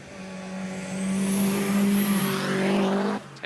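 A Subaru Impreza launches hard off the line at a timed sprint, its engine note loud and close, climbing steadily in a sustained roar for about three seconds before cutting away abruptly.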